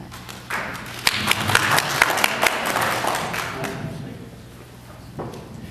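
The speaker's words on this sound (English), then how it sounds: "if you'd hold the applause until we get done with all the candidates" Scattered clapping from a small audience at a Wildomar city candidate information meeting, a brief burst of individual claps and taps that fades within a few seconds, with some room noise after.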